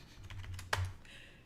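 Quick, quiet clicks of fingers typing on a computer keyboard, with one sharper keystroke partway through against a soft low background hum.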